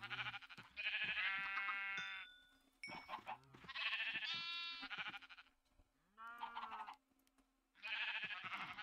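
Several loud, wavering Minecraft sheep bleats in separate bursts with short quiet gaps between them, close by with no talking.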